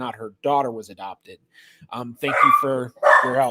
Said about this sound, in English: if you hear the barking in the background